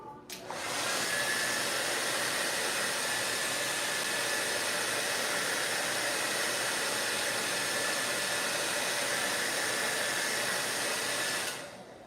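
A hair dryer drying fresh paint runs as a loud, steady whooshing blow for about eleven seconds, starting and stopping abruptly, close and with no talk over it.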